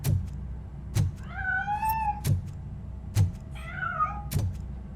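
Two drawn-out meows from a cat in the video game Robocop: Rogue City, set against a steady rhythm of heavy thuds repeating about once per second.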